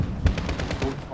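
Rapid automatic gunfire in Modern Warfare (2019), a run of roughly eight close, evenly spaced shots over about a second, loud and sharp with faint talk underneath.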